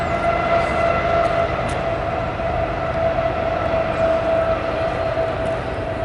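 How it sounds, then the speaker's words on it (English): A train passes beside the Empire State Trail near Rome, New York, with a loud, steady rolling rumble and a sustained tonal whine that holds evenly throughout, with no voices. "That is not special train."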